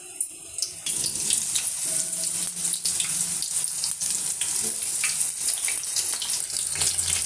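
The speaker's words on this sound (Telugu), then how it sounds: "ఆయిల్ బాగా హీట్ ఎక్కిందండి. ఇప్పుడు ఇందులో ఈ కాకరకాయలు ఇలా వేసుకోవాలి" Bitter gourds hit hot oil in a pan and fry with a steady, broad hiss and crackle, close and loud, without pause from just after the start to the end. Some light clatter sounds over the sizzle.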